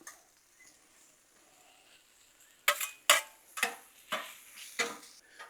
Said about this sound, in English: Go ahead and stir our shrimp up over here.